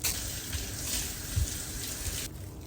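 Tap water runs in a constant close rush as a sausage casing is rinsed for soaking, steady and fairly loud before cutting off abruptly near the end, with no talking.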